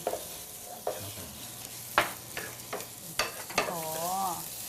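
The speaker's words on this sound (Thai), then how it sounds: "ต้องผัดให้ เนื้อหมูกับเนื้อกุ้งเนี่ย กับรากผักชีกระเทียมพริกไทยให้เข้ากันก่อนนะครับ" Minced pork and shrimp stir-fried with coriander root, garlic and pepper give a quiet sizzle broken by repeated spatula scrapes and knocks against the pan, with brief whistling tones near the end.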